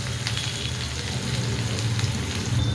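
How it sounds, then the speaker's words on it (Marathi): Onion, curry leaves, green chili and garlic frying in hot oil with cumin and mustard seeds, a steady close crackling sizzle throughout, no voices. "कांदा, मिरची आणि लसूण छान असं परततंय"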